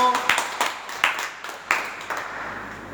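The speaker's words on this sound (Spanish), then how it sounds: "Un fuerte aplauso hoy por el comienzo del aula" Sparse, scattered hand claps from a small audience in a church classroom, about half a dozen uneven claps over a few seconds, close and fairly quiet, with a faint tone at the start.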